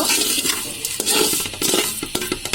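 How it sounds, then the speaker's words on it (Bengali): Semai vermicelli fried and stirred in a pan for sweet milk semai, with steady sizzling broken by frequent scraping and clinking of a spatula against the pan. "সেমাইটাকে আমি ভেজে নেব"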